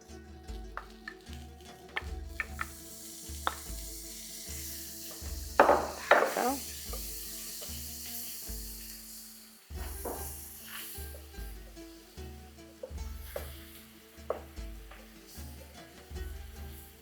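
Butter hitting a hot pan on a stovetop, sizzling steadily with bursts of stirring and clinks of a utensil against the pan, close and moderately loud, with louder crackling spurts midway.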